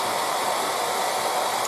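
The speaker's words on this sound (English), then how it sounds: "with acrylics, we can use the air dryer to speed up the process" A hair dryer blows steadily on thin layers of acrylic paint on a 1:35 scale Hetzer tank model, a loud, constant hissing whoosh with no break.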